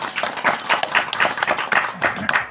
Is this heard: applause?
yes